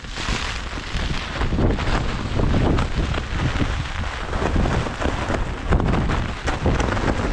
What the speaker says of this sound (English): It is absolutely torrential. Wind is still whipping.